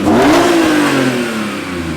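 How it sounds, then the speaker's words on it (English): A BMW E46 M3 revs hard with throaty induction noise heard from inside the cabin. The engine note climbs, then holds steady and loud for about two seconds, with no talking. "Induction noise. Oh, I hear it up here."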